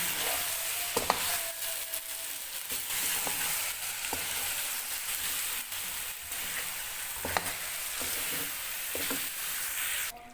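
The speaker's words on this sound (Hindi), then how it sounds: "अब हम इसमें डालेंगे टमाटर चॉप किए हुए, इनको भी अच्छे से मिक्स कर लें।" Chopped tomatoes frying in a pan for an aloo gobi chicken dish, a steady close sizzle with occasional spoon scrapes and knocks as the mix is stirred, no voices.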